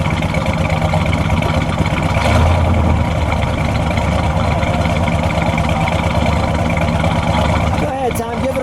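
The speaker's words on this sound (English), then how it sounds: "Let me just listen to it idle." A 1970 Oldsmobile Cutlass 442 W-30 convertible with a 4-speed idles steadily, a continuous, fairly loud engine drone under outdoor background noise with little change throughout.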